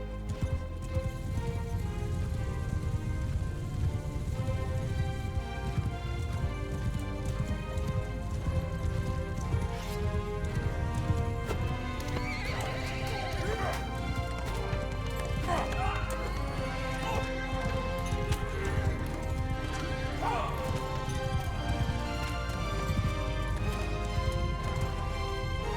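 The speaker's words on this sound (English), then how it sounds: "Cavalry! Horse! Mounts! Charge!" Mounted cavalry gallops in a Mount & Blade Bannerlord battle, with steady hoofbeats under a constant rumble of battle noise and music, and occasional higher calls or whinnies through the middle.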